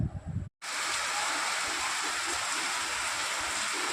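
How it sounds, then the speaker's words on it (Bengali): Steady rain falls continuously in a broad, even hiss after a brief muffled moment, with no other sounds standing out. "আমাদের এখানে সেই ভোর থেকে বৃষ্টি হয়ে যাচ্ছে একটানা"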